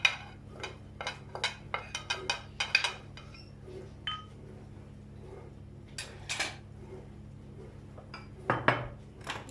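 Grated celery and apple being moved into a bowl, heard as a run of close, distinct clinks and scrapes of utensils against dishes, spaced irregularly with brief pauses between.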